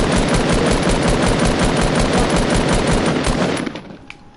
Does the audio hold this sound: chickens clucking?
no